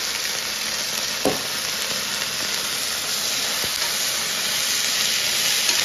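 Poha stir-frying in a hot pan with soy sauce and capsicum, a steady loud sizzle and hiss throughout with a couple of brief scraping knocks from stirring.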